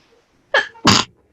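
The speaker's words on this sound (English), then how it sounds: "One second, I feel like I have to sneeze." A single person sneezes loudly and close by, a short catch of breath followed by a sharp burst, in an otherwise quiet room.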